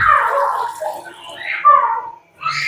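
Water pours into a cooking pot for beef biryani, a close, loud gushing that rises and falls in two bursts with a brief pause between.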